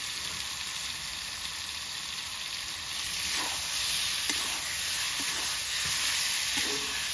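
Tomatoes fry in a pan with ground cumin and coriander paste, a constant loud sizzle and hiss with a few soft stirring knocks and scrapes running throughout.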